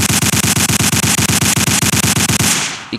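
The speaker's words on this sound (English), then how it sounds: "It keeps firing off until I run out of ammo." A gun in a Roblox game fires in a rapid, evenly spaced automatic burst of about twenty loud shots over two and a half seconds, then stops abruptly and leaves a short fading tail and a small click.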